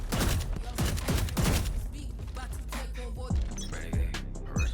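Rapid bursts of Vandal rifle fire from Valorant, a tight series of sharp cracks repeating through most of the stretch with a few spaced single shots near the end, loud and close.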